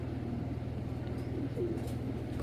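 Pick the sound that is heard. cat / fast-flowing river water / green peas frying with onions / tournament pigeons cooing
tournament pigeons cooing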